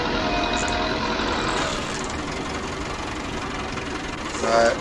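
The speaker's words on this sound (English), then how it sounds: "Apart from this tractor we're on now, the 175" Massey Ferguson 175 tractor engine running steadily close by, a continuous low rumble throughout with a brief louder burst near the end, voices faintly under it.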